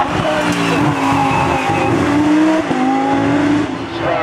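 A Lamborghini Huracan ST Evo race car launches up the 2022 Turckheim–Trois-Épis hill climb, its engine roaring loud and close and rising through the revs, with tyres squealing briefly.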